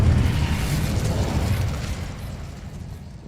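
The Incendio fire spell cast in Hogwarts Legacy, a loud, deep whooshing burst of flame with a rumbling low-end boom that decays over a few seconds.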